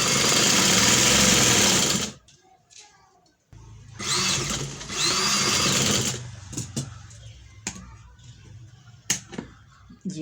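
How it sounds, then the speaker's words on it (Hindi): Sewing machine stitching lace along the edge of a sleeve, a loud steady run of stitching for about two seconds, then a longer second burst after a pause, followed by a few faint clicks and handling sounds. "ये देखिए इस तरह इसकी किनारे किनारे पे हम इसके सिलाई लगाएंगे"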